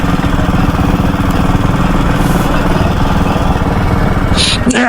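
A motorcycle engine runs loud and close with a steady, throbbing low putter, and a couple of brief higher rattles near the end.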